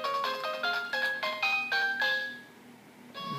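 Pokégear phone ringtone from the Pokémon HeartGold and SoulSilver video game: a bright, clear electronic melody of short repeated chiming notes that plays, pauses briefly, then starts again, with no talking.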